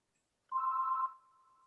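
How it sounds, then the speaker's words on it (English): A telephone rings once during a tabletop role-playing session: a single steady electronic tone, moderately loud, that swells briefly and then fades to a quieter sustained hum, with no voices over it. "He says that, and the phone rings"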